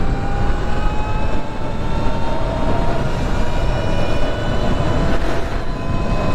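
A 2023 Surron X electric dirt bike at full throttle in sport mode: a loud, continuous roar of wind and motion carries a high electric-motor whine whose tones slowly glide, steady and close throughout.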